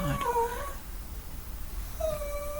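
A pet dog whines and whimpers nearby in a home, with a couple of short high-pitched cries at the start and another drawn-out whine near the end, quiet room noise between.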